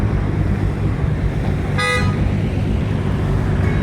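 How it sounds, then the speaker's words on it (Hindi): A single short horn toot from a Toyota Coaster bus sounds over steady, loud engine and traffic rumble, in Sindh, Pakistan. "हॉर्न बज रहा है कोस्टा का"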